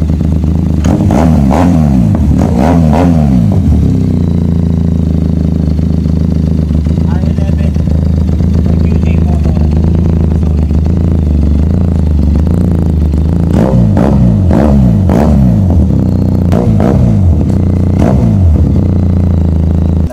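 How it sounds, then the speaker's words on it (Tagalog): A QJ Motor SRK 400 inline-twin motorcycle with an Akrapovic R11 Shorty exhaust revs repeatedly in sharp bursts, its loud throaty exhaust barking and settling back to a rumbling idle between blips. "soundcheck natin ang Akrapovic R11 Shorty para dito sa QJ Motor SRK 400"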